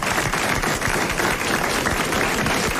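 Studio audience at a 1983 French radio comedy show applauds steadily, a dense, even wash of many hands clapping throughout, with no talk over it.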